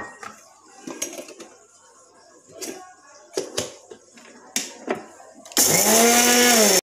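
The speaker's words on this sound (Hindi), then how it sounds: "अब हम इसके अंदर अपनी खसखस और अपने मगज ये दोनों पीस लेते हैं।" An electric grinder runs loud and steady near the end, grinding poppy seeds and melon seeds, after several scattered knocks and clinks of the jar being handled.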